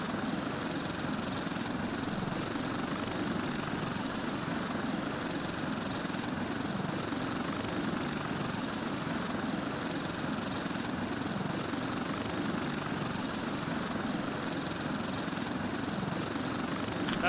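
A gyrocopter flies in the video game Stranded Deep, its engine and rotor making a steady, loud droning whir that holds unbroken throughout, with no voices over it.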